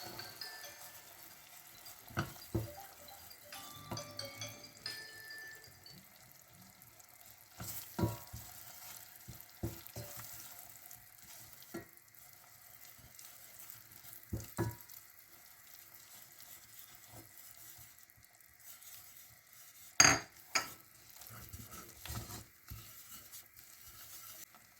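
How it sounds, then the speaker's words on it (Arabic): Flour is stirred slowly into a chopped mushroom mixture in a pan. Soft, faint sizzling runs under sporadic scrapes and clinks of the spoon, with a sharper knock near the end. "غادي نزيد 80 غرام ديال الطحين وغادي نبقى نحرك بشويه بشويه"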